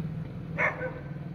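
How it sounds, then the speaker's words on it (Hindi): A single short dog bark sounds at a distance outdoors early in the morning, over a low, steady hum. "डॉग भौंक रहे हैं,"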